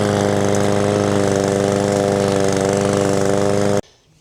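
A PowerSmart 22-inch rear-wheel-drive self-propelled lawn mower engine runs with a steady, loud, buzzing drone close by, then cuts off abruptly near the end, leaving quiet.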